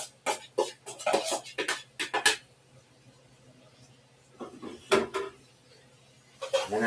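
Onions softening in grease in a big Dutch oven, with close utensil clatter and scraping against the pot in quick bursts, then a quieter stretch before more clinks.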